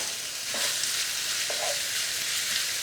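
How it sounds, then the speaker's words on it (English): Pork stir frying in a pan for Korean spicy pork over rice, a steady close hiss of sizzling fat with two brief scraping stirs, no talking. "Just stir fry until a little bit crispy."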